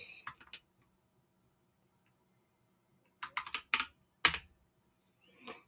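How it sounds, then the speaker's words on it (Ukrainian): Typing on a computer keyboard to chat in Roblox, short bursts of quick clicking keystrokes separated by silence, close and fairly quiet. "Я зараз пишу в чат дещо."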